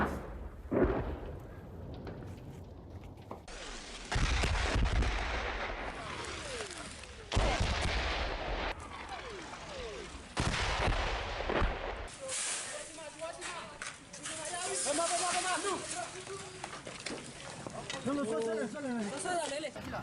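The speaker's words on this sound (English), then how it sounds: "Shell just came in right behind us." Artillery shells and gunfire strike near a village in Myanmar's border region during war, heard as several sharp, moderately distant blasts scattered among close, hissing background noise while people talk nearby.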